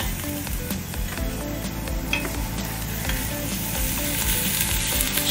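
Onions fry in oil in a pan as the base for spaghetti bolognese, giving a loud, close, continuous sizzle with small crackles and a low rumbling undertone.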